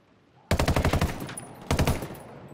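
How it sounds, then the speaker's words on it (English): Enemy gunfire in Ghost Recon Wildlands: two close, loud bursts of rapid automatic shots, the first longer and the second shorter, separated by a brief pause. "Who is shooting at me?"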